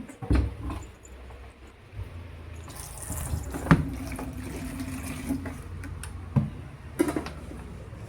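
Water runs from a tap into a container while a fish tank is being refilled, a low steady flow broken by a few sharp clinks and knocks close by.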